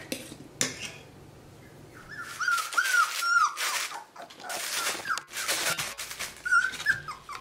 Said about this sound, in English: They're starting to bark a little bit and growl a little bit and whine a little bit.